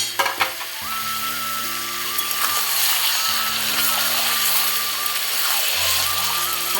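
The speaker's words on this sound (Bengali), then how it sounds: "এখন এই চিকেনটা এর মধ্যে দিয়ে দেবো।" Marinated chicken sizzles and fries with browned onions in white oil, a loud, steady crackle with occasional stirring scrapes throughout.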